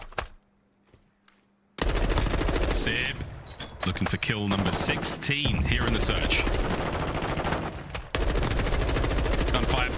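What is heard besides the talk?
gunfire in the video game Call of Duty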